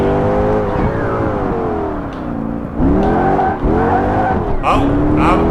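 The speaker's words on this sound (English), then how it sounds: "Oh, I'm downshifting instead of upshifting." Race car engine in Project Gotham Racing 4, revving hard with pitch dropping and climbing through repeated gear changes and downshifts, tire squeal near the end, loud and close with a voice talking over it.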